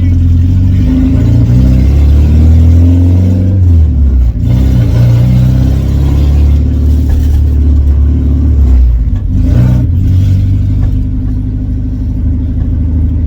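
A 1986 Ford Cortina P100 pickup's engine revs loudly close by, its rumbling note rising and falling through several throttle blips over a steady running drone.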